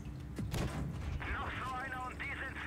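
A tank cannon fires in World of Tanks Blitz, an E 75 TS in a tense late-game battle: one sharp booming shot with a rumbling tail, followed by mechanical whirring and faint clinks, under quiet game ambience.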